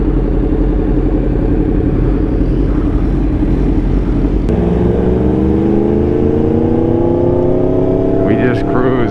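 A loud motorcycle engine on a night ride rumbles steadily and close, then climbs in pitch as it revs and accelerates, with a voice talking over it.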